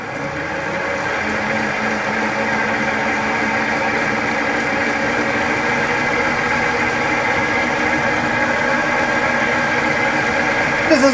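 Wood lathe turning a vase blank between centers at 960 RPM, a steady continuous whirring hum with motor harmonics, close and even throughout with no talk.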